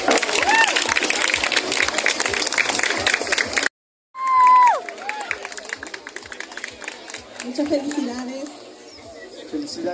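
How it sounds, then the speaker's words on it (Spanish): Crowd applause and cheering at a folk dance contest during a parish church arts festival, a broad wash of clapping that swells and fades, with a voice talking over it. "Fuerte el aplauso para ellas."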